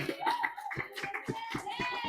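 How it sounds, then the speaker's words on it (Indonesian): A few people clap in short bursts, mixed with a voice and other voices talking over the applause. "Tepuk tangan dulu buat Alia."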